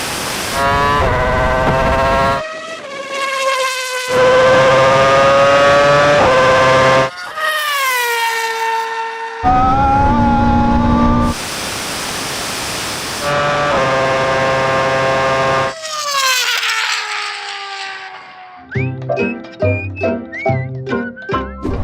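A Porsche 918 Spyder, Bugatti Veyron and Red Bull RB8 drag race over a half mile, loud, high engine whines climbing and dropping through repeated gear changes, ending in a rougher, pulsing rev.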